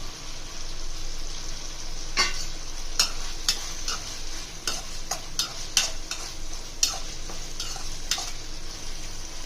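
Fried drumsticks are stirred into softened, cooking tomatoes, making a steady moderate sizzle with a series of sharp spatula clicks and scrapes against the pan.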